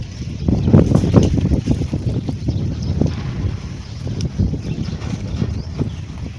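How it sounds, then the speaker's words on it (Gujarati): Wind blows in gusts, buffeting the microphone with a loud, uneven low rumble that rises and falls throughout. "પવન આવે છે"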